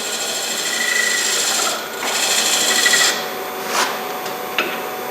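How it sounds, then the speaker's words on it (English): Steel scraper cutting the foot of a turned wooden bowl spinning on a lathe, a steady close rasping hiss that briefly dips and returns, with a few sharper scrapes near the end. "I'm going to use my little less than 90 scraper"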